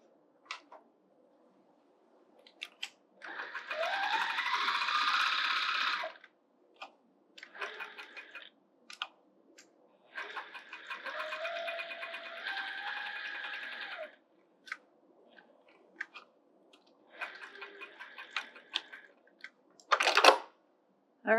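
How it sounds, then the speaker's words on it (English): A sewing machine stitches around the edges of a fabric bag in three long runs, each a few seconds of steady close whirring, separated by pauses filled with small clicks and handling noises, with a sharp clack near the end. "And now we'll sew around the edges."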